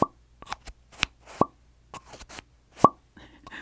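Little plastic tubes make soft, hollow pops, about eight scattered irregularly, heard up close and quiet against near silence.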